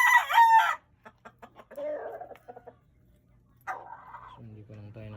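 Breeding chickens cluck in quick bursts and a rooster crows loudly at the start, all close by in a farmyard setting, with someone talking intermittently between the calls.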